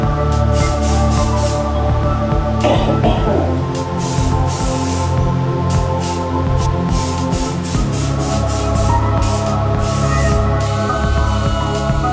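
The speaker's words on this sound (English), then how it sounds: "So now I'm going to give this bit here a spray paint" Spray paint hisses from an aerosol can onto part of a wooden DIY PC cabinet in repeated short bursts, close and fairly loud, over a constant background hum.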